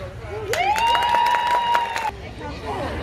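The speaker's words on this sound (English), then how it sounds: "we are going to give him a massive cheer." Audience at a sea lion show at West Midlands Safari Park cheering and clapping, a lively crowd swell with a loud sustained whistle in the middle, then settling into babble.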